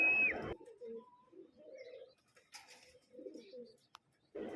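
A racing pigeon lands on a home roof after a training flight, with soft intermittent cooing and brief chirps, fairly faint and alone.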